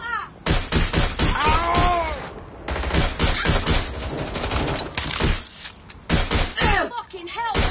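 Bursts of rapid gunfire crack through a Watch Dogs Legion firefight, loud close volleys separated by short pauses, with voices shouting over the shots.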